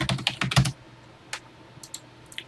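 Typing on a TI-99/4A home computer keyboard: a quick burst of several close, crisp key clicks, then a pause and a few scattered single keystrokes.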